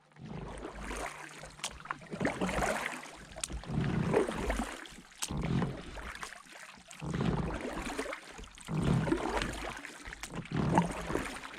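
Oars work an inflatable boat across Loch Etive, a sea loch, with repeated strokes roughly every one to two seconds: watery splashes and sloshes that swell and fade in a steady rowing rhythm, close by, with no voices.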